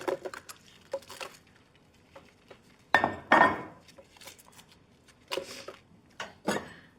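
Fresh chiles dropped into an open blender jar for a Mexican salsa, giving a few scattered soft clinks and thuds against the glass with quiet pauses between them.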